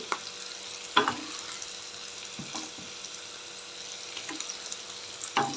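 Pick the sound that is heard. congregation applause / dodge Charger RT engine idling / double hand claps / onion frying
onion frying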